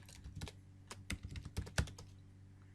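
Quick clicks of typing an SQL query on a computer keyboard, a brisk irregular run of close keystrokes over a low hum, with no talking.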